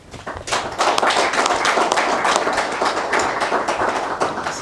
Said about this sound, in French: Les applaudissements sont éloquents